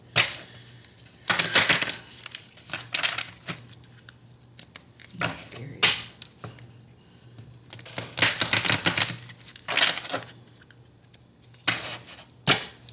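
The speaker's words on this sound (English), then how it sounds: "Oh my gosh, I am shuffling horrible today." Oracle cards riffle and slap in quick, papery bursts, with softer shuffling rustles between them and a brief word spoken once.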